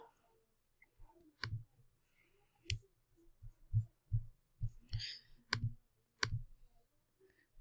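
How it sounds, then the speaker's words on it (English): Computer mouse clicked by hand, about nine crisp, close clicks spaced irregularly with short quiet gaps between them, no voices. "I'm gonna click it again."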